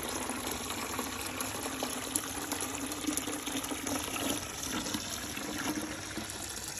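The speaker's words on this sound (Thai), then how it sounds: "ก็จะเปิดน้ำใส่นาข้าวด้วย" Water runs from a tap to flood a rice paddy on a Thai farm in the morning. It makes a faint, steady gushing that goes on without a break, with no speech.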